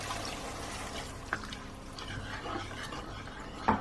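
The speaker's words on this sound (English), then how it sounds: "I'm going to add about a cup of water." A cup of water poured into a pan of Indian chicken meatball kofta curry, a quiet steady trickle and splash lasting a few seconds with no talking.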